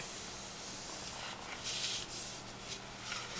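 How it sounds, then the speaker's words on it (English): A burnishing tool rubs across the edges of a paper folio in soft, close scraping strokes, quiet and uneven with brief louder swipes. "I like to turn it over to burnish it from the top side and from the center out"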